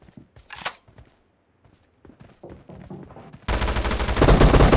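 Gunfire in the mobile battle royale game PUBG Mobile, a 2v2 team deathmatch, with scattered soft clicks and a short burst before a loud, sustained automatic volley closes out the clip.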